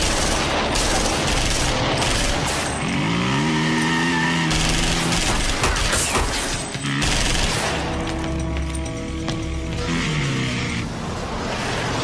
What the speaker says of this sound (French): On dirait une fusillade.